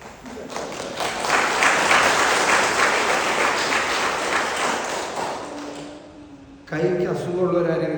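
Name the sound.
congregation applause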